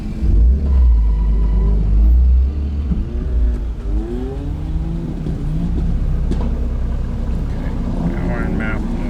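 A BMW F80 M3 drift car's engine rumbles deep and loud as the car backs up, its pitch rising and falling with throttle blips, with voices talking over it.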